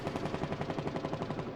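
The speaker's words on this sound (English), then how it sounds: "We're hearing all kinds of gunfire at West Point" Rapid video-game gunfire crackles continuously at West Point, a dense stream of overlapping automatic shots heard at a distance, steady and fairly faint with no talk.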